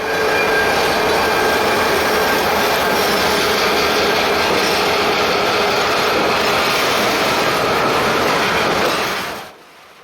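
A Maryland Midland freight train, with Bayline 6409 and Maryland Midland 3450 and 2060 locomotives, rolls past close by in a loud, continuous rumble and rattle before cutting off sharply at the end.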